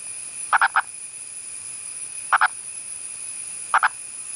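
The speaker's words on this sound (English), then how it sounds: "the purple frog is a lumpy little guy who also sounds like this." A purple frog calls in three short spaced bursts, each a quick double or triple croak, ringing out clearly over a steady faint background hum.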